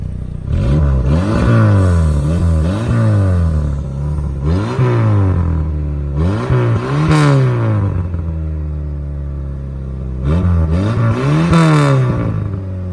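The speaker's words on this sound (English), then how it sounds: "We'll give it a little rev." A Plymouth Sundance engine is revved repeatedly, each throttle blip rising into a loud, raspy climb and dropping back to idle, close and dry, with several bursts spaced across the stretch and no talking over it.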